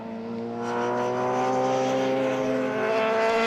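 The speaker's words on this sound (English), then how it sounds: "That's the number 70 car of John Fider, he's just gone by" Historic racing car number 70 at a race meeting passes by, a steady harmonic engine drone that swells gradually in loudness over a few seconds and sounds moderately distant, with no talking.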